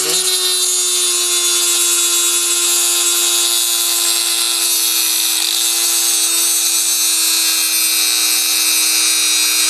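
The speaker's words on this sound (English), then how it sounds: "Just keep on grinding." A power tool grinds down an accordion reed, a steady high-pitched whine with a harsh buzzing edge that runs loud and unbroken throughout, with no talking.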